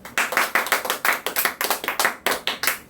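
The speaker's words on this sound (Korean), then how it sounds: "자, 이 대목에서 박수 한번 치자고요" Audience members at a data center competition event in Seoul clap in a fast, even rhythm, a close series of sharp, evenly spaced claps that keeps going without pause.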